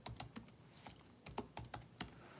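A computer keyboard being typed on to enter a search, with a short burst of close, crisp key clicks in an uneven rhythm, alone and without talk.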